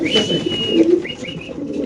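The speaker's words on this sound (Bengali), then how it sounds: "এটা নর কবুতর না ভাই" Soft, low pigeon cooing repeats steadily at close range, with a few higher chirps and whistly calls from other birds mixed in.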